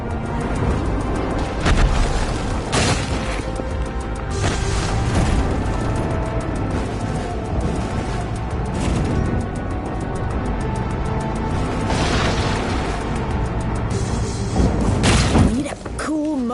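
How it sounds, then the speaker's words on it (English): Explosions from mutated zombies in Far Cry 5's Dead Living Zombies DLC, heavy booms and shattering thuds recurring over a dense, loud game soundtrack, with sharp bursts near the start and end. "If the main character hits them, they'll explode."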